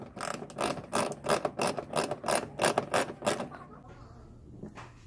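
A ratchet wrench rapidly clicks as a 10mm bolt is loosened from a 2011-2014 Dodge Charger headlight, with a run of close, rhythmic ratcheting strokes that stop shortly before the end.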